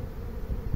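A swarm of honeybees gathered on the ground, a steady close buzzing drone with a low hum, brief and without speech.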